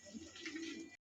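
Domestic pigeons offered for sale give a single short, faint coo that cuts off abruptly.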